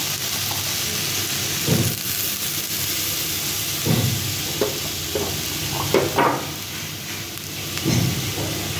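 Potatoes frying in a hot pan give a steady sizzling hiss, with occasional louder stirring scrapes and clatters, close by with no talking.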